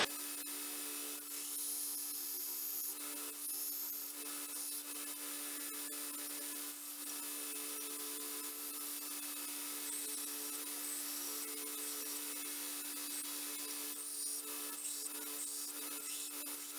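A horseshoe is ground down ahead of being forged into a letter opener, giving a continuous high-pitched whining grind with faint scraping texture that holds steady throughout.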